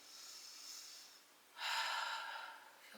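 Slow, deep breathing during a yoga session, a soft drawn-out inhale followed by a louder, fuller exhale close to the microphone.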